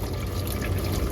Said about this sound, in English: I kind of jury-rigged this fashion to pour some in through those openings at the thermostat to get the top of the motor